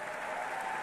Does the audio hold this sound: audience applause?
yes